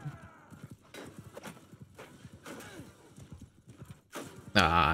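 Horse hooves clop in a quick, uneven rhythm along with a whinny in the video game Realm of Thrones, ending in a sudden loud burst of battle noise.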